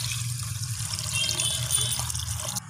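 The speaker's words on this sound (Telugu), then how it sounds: "తర్వాత మనం వాటర్ కూడా యాడ్ చేసుకున్నాము," Water is poured into a mixture being prepared in a home kitchen, giving a steady, close pouring and trickling wash that runs the whole time, with no voices.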